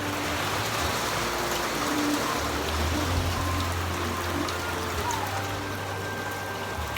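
Heavy rain pours in a dense, constant hiss, close and loud, with a low hum underneath and a voice talking faintly at times.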